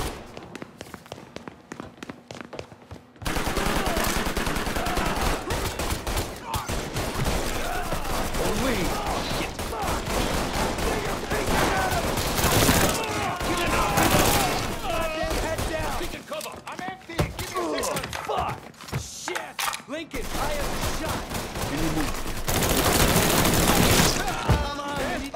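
Heavy gunfire from the Mafia 3 video game fills most of the stretch, with dense, overlapping shots and bursts after a quieter opening, while voices call out beneath the shooting.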